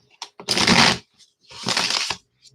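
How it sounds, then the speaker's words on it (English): A deck of cards is shuffled in two quick riffling bursts, loud and close, with brief clicks and pauses between them. "I'm trying to shuffle."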